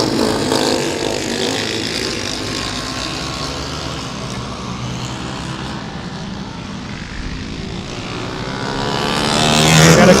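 Bomber race cars roar around Golden Spike Speedway in Blue Earth, Minnesota, a loud continuous engine drone from the pack that swells toward the end as cars pass close by.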